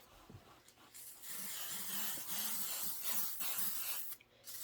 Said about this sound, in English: We're going to spray it one more time